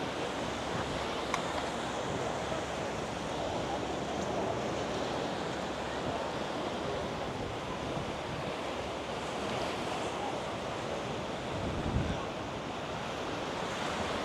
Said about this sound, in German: Es ist gefährlich ins Wasser. Wir haben Wellen, das schauen wir uns jetzt noch mal ein bisschen an.